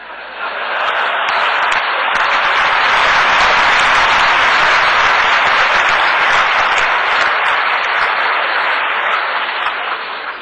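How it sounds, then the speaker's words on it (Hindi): Sustained audience applause at a FICCI event hall, a dense, loud wash of many hands clapping that swells in, holds steady for about ten seconds, and tapers slightly at the end. "कुछ तालियां यहां बजती है, कुछ तालियां पीछे बढ़ती है"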